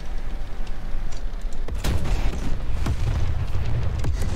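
A bomb explodes in War Thunder, a deep heavy boom hitting partway through and rolling into a long rumbling blast with debris crackle, loud and close.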